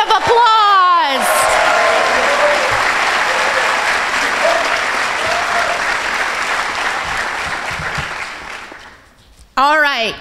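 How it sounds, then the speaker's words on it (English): Sustained audience applause for a small business award finalist at a chamber of commerce awards ceremony, loud and steady for about eight seconds after a brief voice, fading at the end before a voice returns. "Big round of applause."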